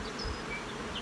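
Honeybees crawl over a hive frame during an inspection of a ten-frame hive, giving a soft, steady buzzing hum throughout, faint and close with no voices.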